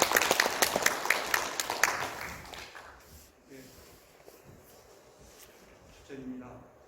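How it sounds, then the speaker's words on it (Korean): Audience applause at a forum marking the 73rd anniversary of the Yeosun uprising, a burst of clapping that fades after about three seconds, followed by scattered quiet shuffling and a few voices. "뜨거운 박수 부탁드리겠습니다."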